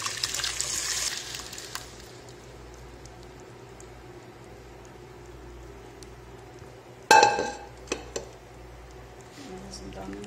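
Cooked beans are poured into a clay pot on a home stove, with a soft wet slosh and trickle, then a sudden cluster of sharp clinks and scrapes against the pot, fairly close.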